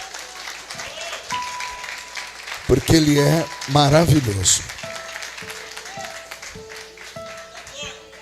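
A church congregation claps during a worship service, a continuous patter of applause running under a preacher's loud, amplified speech, with organ-like sustained tones in the background.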